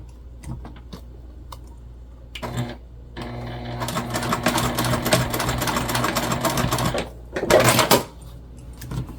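A sewing machine bastes backpack fabric near a swivel hook: a few faint ticks, a short burst of stitching, then a long steady run of rapid mechanical clatter, a pause, and one more brief burst.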